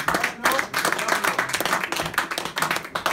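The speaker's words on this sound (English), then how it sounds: "Everyone give a big round of applause for my man." Open mic night audience clapping for a performer, a close, lively burst of many hands with uneven rhythmic peaks and a few voices cheering underneath.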